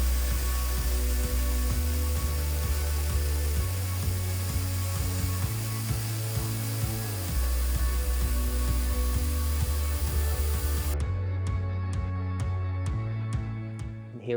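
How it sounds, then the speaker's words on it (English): A Clarke CBS45MD bandsaw cutting through wood, a steady loud mechanical hum with a tonal drone that steps in pitch, running continuously and alone, ending in a rhythmic ticking as it winds down. "So hopefully with this bandsaw, we're able to get some nice clean cuts."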